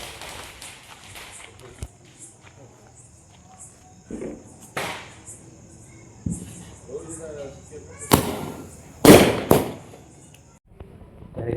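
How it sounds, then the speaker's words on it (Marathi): Diwali firecrackers go off in several sharp, loud bangs, with a few scattered cracks early on and a cluster of close, heavy bursts near the end, between quieter stretches of background noise. "खूप फटाके पण फोडले आणि दिवाळी सेलिब्रेट केली सगळी."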